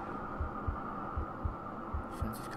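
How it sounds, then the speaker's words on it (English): Steady low heartbeat thumps in a paired rhythm under a constant hum, with a brief high electronic flutter at the end, in the video game Bloodborne. "Like heart beating."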